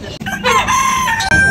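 A black buff Aseel rooster crows loudly and close by in one sustained call, with clucking chickens around it, at a poultry market.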